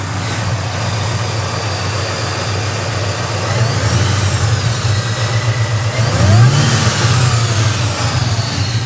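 A 2004 Ford SVT Cobra engine idles with a steady rumble, then gives a short rev blip that rises and falls near the end, heard close and alone without talk.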